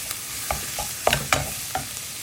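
Carrots are stir-fried with minced meat in a pan, a constant close sizzle broken by several sharp scraping and tapping strokes of the spatula.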